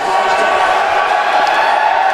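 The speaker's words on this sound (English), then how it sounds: "Can you hear that cheer?" A crowd cheers and shouts at a live Black Ops 2 gaming event in an arena, a loud continuous roar with a commentator talking over it.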